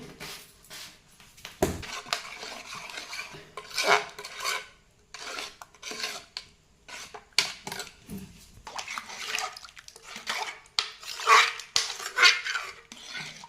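Curry with onion, tomato, turmeric and salt being stirred and mixed in a pot after a splash of water is added, giving close, irregular scraping and rasping strokes with brief knocks against the pot, no talking.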